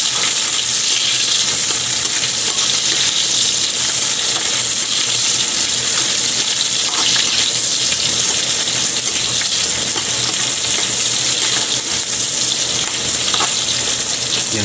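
Pork and onions sizzle and fry steadily in hot oil for sotanghon, a dense continuous hiss with crackling throughout, close and loud with no talking.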